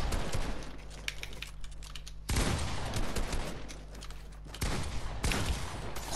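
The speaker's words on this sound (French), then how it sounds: "je prends des balles pour rien" Fortnite gunfire hits the player in bursts of rapid shots layered with clicky keyboard-like clatter, loud and dense, coming in three distinct waves with no talking.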